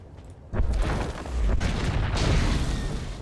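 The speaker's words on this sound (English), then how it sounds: "A bit close for comfort to that explosion, but okay." Bombs blow up nearby in Star Wars: The Old Republic, a sudden loud boom that hits hard and then rolls on as a thick, sustained rumble with a second swell partway through.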